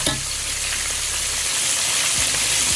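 Bluegill and catfish frying in hot oil, a loud continuous sizzle with faint bubbling and a brief clatter of a utensil as pieces are turned.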